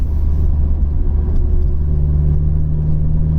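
A Vauxhall Cavalier with a C20XE 2.0 16V engine driving along, heard from inside: a loud, steady low engine rumble with a slight rise in pitch, no talking.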